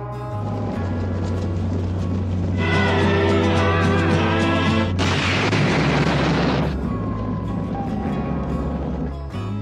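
A sustained rumbling dynamite blast from a saddle packed with explosives on a Western film soundtrack, loud and dense, swelling into a roaring burst midway amid orchestral music.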